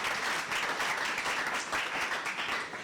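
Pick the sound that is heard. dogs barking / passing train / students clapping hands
students clapping hands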